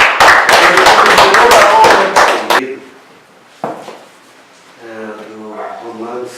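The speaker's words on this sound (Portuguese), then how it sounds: "Vamos aplaudir o Senhor Jesus." A church congregation applauds together, a dense burst of many hands clapping loudly for a few seconds before fading out, followed by a single knock and then a voice speaking.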